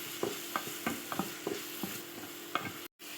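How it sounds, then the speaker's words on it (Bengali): Onions fry in a pan for an egg-and-flour snack filling, with a steady sizzle broken by regular scraping strokes of a stirring utensil, close and fairly quiet, with no talking. "পেঁয়াজটা ভালো করে ভাজা ভাজা করে নিতে হবে।"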